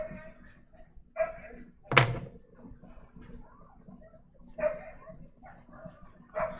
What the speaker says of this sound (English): Sorry about that noise, that's the dogs.